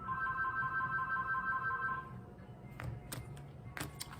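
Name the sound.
telephone ringing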